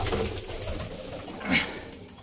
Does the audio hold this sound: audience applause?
no